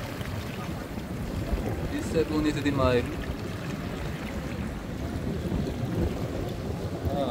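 Seawater surges up against a seaside wall in Recife with a rushing wash over a constant wind-blown rumble, while a person speaks briefly over the water.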